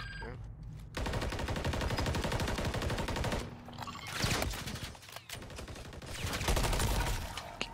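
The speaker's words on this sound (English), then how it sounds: "He's shooting through the fucking window." Rapid bursts of automatic gunfire in Modern Warfare 3 ranked play as an enemy shoots through a window, loud and dense with short pauses between volleys, and no talk over it.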